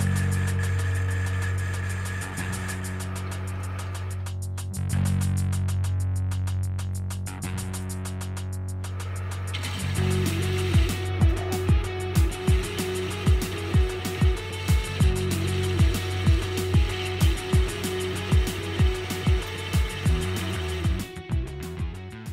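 Steam pump water end cover being machined on a lathe or mill, with a bore and a groove cut for a 3.5 inch pipe. A steady machine hum gives way to a loud, rhythmic series of cutting chatters and knocks.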